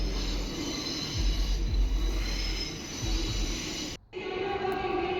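A small train in Perth rolls past on rails with a steady rumbling drone, rhythmic wheel clunks and faint squeals, heard from fairly close with a short gap near the end.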